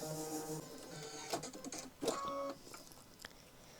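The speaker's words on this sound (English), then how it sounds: "we'll go ahead and stitch the last 3 colors" An embroidery machine stitches freestanding lace turkey earrings, a close whirring, rattling hum broken by sharper clacks and thumps of the mechanism, steady but quiet.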